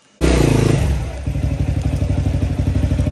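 A motorbike is ridden slowly up to a house, its engine starting loud and close with a clattering roar, then settling into a steady, pulsing idle-like thump that continues to the end.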